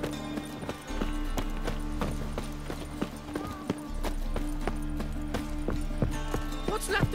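Horse hooves clip-clop at a steady trot in The Witcher 3: Wild Hunt, a continuous rhythmic patter of hoofbeats under low game ambience and brief voice, fairly close and even throughout.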